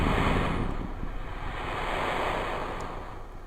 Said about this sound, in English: It's splashdown of the rocket car.